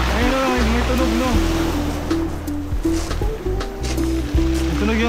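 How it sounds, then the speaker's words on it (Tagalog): Black Sea waves breaking on the shore at Batumi in winter, a steady loud wash of surf close by with people talking over it throughout. "May tunog yung alon."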